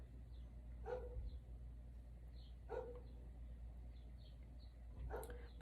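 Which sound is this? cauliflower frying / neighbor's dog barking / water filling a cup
neighbor's dog barking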